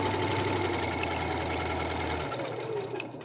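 Sewing machine stitching fabric with the stitch-length wheel set to 3: a fast, steady mechanical whirring and rhythmic needle clatter, close and loud, slowing slightly near the end.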